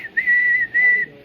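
A person whistles with the mouth to imitate a train platform attendant's whistle, giving two loud, shrill, sustained blasts close by.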